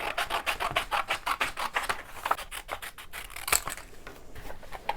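Scissors snip steadily through paper crayon swatch charts, a close, rhythmic run of crisp cuts that slows and thins toward the end.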